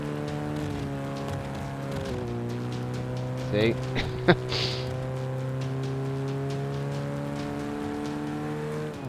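Race car engine in Forza Motorsport 5 drones at a steady pitch with a slight shift around two seconds, alongside brief clicks and a quick sharp tap, while someone speaks briefly over it.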